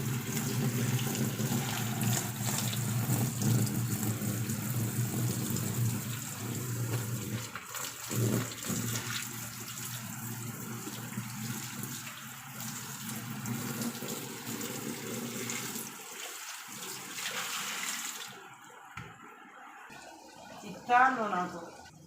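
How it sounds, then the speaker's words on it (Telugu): Water poured by hand into a washing machine tub runs as a continuous gushing, splashing stream, loud and steady for most of the span before tapering off, with someone talking. "మనం మాన్యువల్గా కూడా ఇలా నీళ్ళు పోసుకోవచ్చు."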